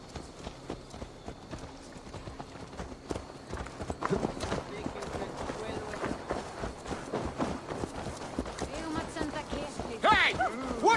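Horse hooves clip-clop in Assassin's Creed Valhalla gameplay, a steady walking rhythm of hoof falls under ongoing voices, building slightly louder toward the end.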